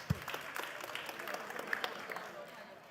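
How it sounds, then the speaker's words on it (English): Audience applause for the judges at a university science contest forum, steady scattered clapping throughout, fairly faint and moderately distant, with a brief low thump at the start. "A round of applause for our"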